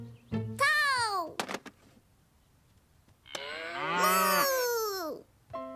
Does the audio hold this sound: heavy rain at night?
no